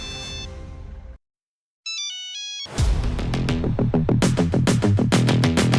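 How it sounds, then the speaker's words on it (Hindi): An electronic phone ringtone plays a short melody, stops briefly, then a louder, busier musical ringtone rings out with rhythmic repeated notes. "ये भैया फोन किसका आ रहा है?"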